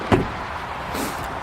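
A single solid thump of a Lexus LX470 or Land Cruiser door shutting near the start, followed by quiet background hum.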